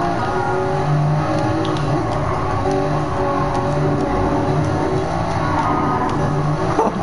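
Toyota Supra engine racing in the Gran Turismo Sport video game, a loud sustained engine drone with shifting revs and other cars close by, running continuously for several seconds.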